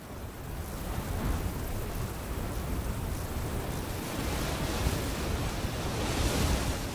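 Strong wind blowing steadily across open ground in the Écrins mountains, a broad continuous roar that swells slightly near the end, with no voices.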